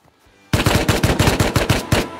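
A burst of rapid automatic gunfire from the video game Rust rings out loud and close, a steady string of about fifteen sharp shots in quick succession after a short quiet lead-in.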